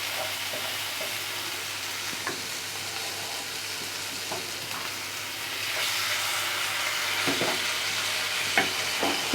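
Masala spices frying in a pan for pomfret, a steady soft sizzle and hiss, with occasional light scrapes and taps of a spatula as the spices are spread aside, growing slightly louder toward the end; no talk.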